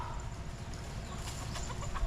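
Soft clucking from a chicken, distant and faint, over steady outdoor background noise on Siquijor island, Philippines.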